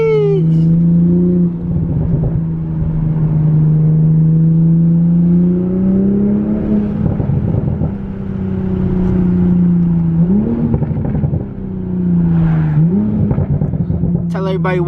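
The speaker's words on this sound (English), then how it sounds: "this exhaust and intake combo sounds fucking amazing, boy" A car fitted with a Tomei dual exhaust and HKS carbon intake driving on the way to work: a steady, loud droning exhaust note that rises and dips with gear changes and throttle, heard from inside, with someone talking over it.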